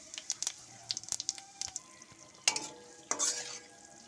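Whole spices such as bay leaf, dried red chilli, cumin seeds and garam masala stirred in hot oil: a soft sizzle under rapid spoon clinks and crackling pops, then two louder scraping stirs near the end.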